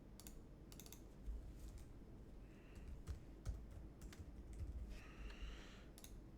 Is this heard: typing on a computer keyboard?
yes